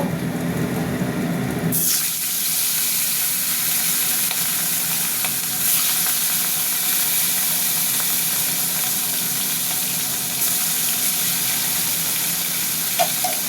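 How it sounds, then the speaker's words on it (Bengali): Fish pieces are dropped into hot cooking oil, setting off a sudden loud burst of sizzling that settles into a steady, close, crackling fry with scattered spits and no talking. "এবার অন্য মাছ দিয়ে দেবো।"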